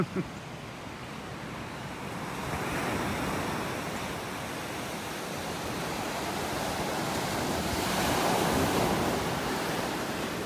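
Surf breaking on a beach in North Naples, Florida, forms a steady broadband wash that swells around the middle and again near the end. A brief bump sits at the very start.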